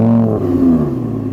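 An Audi R8's naturally aspirated V10 fires up, giving a brief, close, deep engine roar that quickly settles into a steady, rumbling idle.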